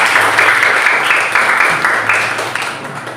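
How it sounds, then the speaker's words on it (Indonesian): A classroom of students claps together in a short burst of applause that fades gradually, with no talking over it. "tepuk tangan kepada kita semua"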